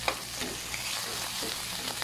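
Pork sizzles and fries in a pan, a steady close crackle with occasional stirring clinks.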